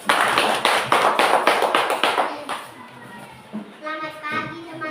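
Classroom audience of teachers and students clapping for a presenting group at a school coaching session, a burst of brisk applause that fades after a few seconds, followed by faint chatter and small sounds.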